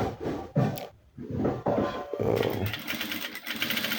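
Sewing machine stitching agbada fabric in a round curve, a close, uneven mechanical whirring in short bursts with pauses and fabric handling noise, plus a brief spoken word.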